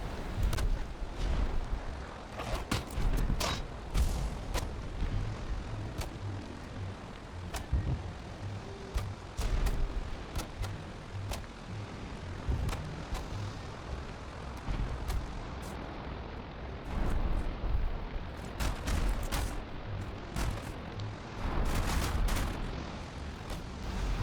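Campfire crackling after being lit in the survival game Valheim, with dense irregular pops and snaps over a rushing low rumble, loud and continuous throughout.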